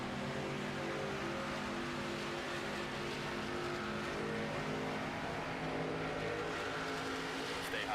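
Race cars at Atlanta in NASCAR 25 roar together in a steady, dense drone of engines that holds a constant loud level throughout, with no talk.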